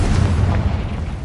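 A Confringo blasting spell explodes in Hogwarts Legacy, a loud, sustained booming blast with deep rumble filling the whole moment, no voices over it.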